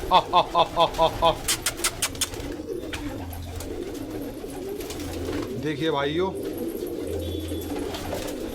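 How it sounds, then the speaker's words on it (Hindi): Pigeons coo and call on a rooftop, a run of rhythmic pulsing calls up front followed by softer cooing, with someone talking over them close by. "फिर इन कबूतरों को निकालते हैं बाहर छत पे"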